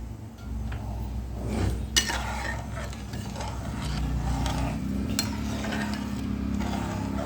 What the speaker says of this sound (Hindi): और इसको इस तरह से चलाते हुए बनाएंगे हलवा।